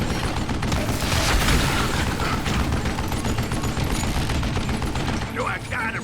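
Rapid bursts of gunfire fill a Call of Juarez Gunslinger gunfight, dense and loud with overlapping shots and booms running almost without pause, under a busy game soundscape.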